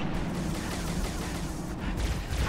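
Sustained, dense turret gunfire from a Halo Reach battle, a continuous rattling barrage of shots that runs steadily at close range for the whole stretch with no pauses.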